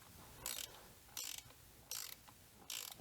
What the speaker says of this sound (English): I'll be right back with a torque wrench, and we'll set that to 11 Newton meters.